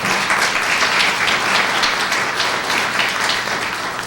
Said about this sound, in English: Let's give Herman a round of applause